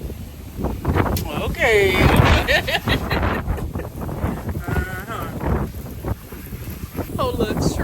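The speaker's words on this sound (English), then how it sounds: "that wind picking up" Wind picking up outdoors ahead of a hurricane, a steady gusty rush buffeting the microphone beneath a man's and a woman's conversation.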